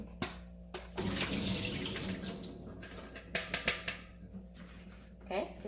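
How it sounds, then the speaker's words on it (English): Water drains from salted daikon radish in a kitchen as a steady close trickle and pour, followed by a few sharp knocks and clatters of a bowl or strainer, with a voice talking briefly. "not rinse, but drain it."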